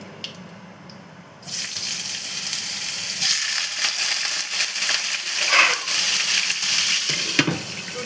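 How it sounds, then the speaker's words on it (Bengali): Bitter gourd (karela) frying in hot oil in a pan while making Bengali shukto, a steady loud sizzle that bursts in after a quiet moment and keeps crackling with stirring, no talk. "এবারে আমি করলাটা ভেজে নেব।"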